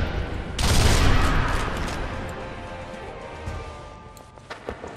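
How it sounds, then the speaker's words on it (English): A sniper rifle fired from the hip in Sniper Elite V2 gives one loud blast with a long rumbling tail that fades over several seconds, followed by faint scattered clicks. "Firing from the hip doesn't seem very effective."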